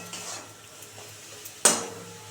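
Beet bhorta being stirred in a pan, with soft scraping near the cookware that leads to one sharp metallic clank of the utensil against the pan, then a faint ringing tail.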